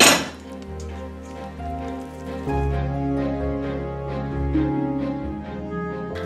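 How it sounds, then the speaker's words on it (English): Rinsed broccoli is stirred into beef in a crockpot, with a spoon clinking and scraping against the pot in a steady run of close, moderately loud knocks and clatters and no talking. "I'm gonna go ahead now and put that in. And then we're gonna mix that all together."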